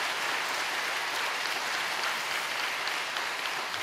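A church congregation at a Friday night prayer meeting claps in encouragement, a moderate, dense patter of many hands heard alone and sustained evenly for a few seconds.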